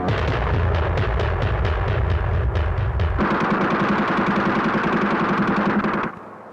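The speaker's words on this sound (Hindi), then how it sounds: "क्यों गोलियों को बर्बाद कर रहा है?" Movie-scene gunfire, a rapid run of loud, evenly spaced shots over a heavy low rumble, then a dense, continuous crackling barrage that cuts off abruptly near the end, with no talk.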